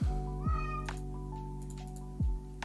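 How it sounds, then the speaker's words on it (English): A male cat meows loudly up close, with one long call, a short middle cry and another meow at the end, against a steady background hum. "And the cat is going to be disrupting the stream, so just pardon him."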